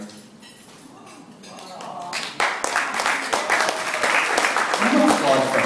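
Wedding guests applaud during a best man speech, the clapping breaking out sharply partway through and building into loud, sustained applause with some clinking, after a stretch of speech.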